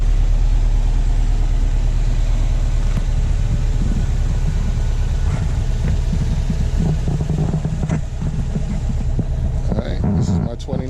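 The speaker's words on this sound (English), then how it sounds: "Alright, this is my 2019 Subaru WRX STI." A 2019 Subaru WRX STI engine runs at a steady idle, a loud, close, low rumble with an even pulse that carries on throughout, with slight shifts in tone near the end.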